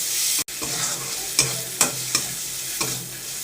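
Onion, tomato, ginger, garlic, salt, turmeric and chili powder frying in a pan, stirred with a steady sizzle and a few distinct spatula scrapes that come at a slow, regular pace.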